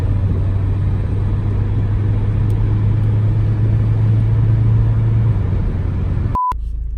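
A steady low rumble of road traffic beside trucks, heard continuously from within a moving car, with a short sharp beep near the end and no talking.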